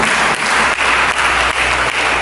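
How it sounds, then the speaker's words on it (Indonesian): A church congregation applauds during a sermon, loud, dense and continuous clapping that fills the space evenly from start to end. "Berikan tepuk tangan bagimu"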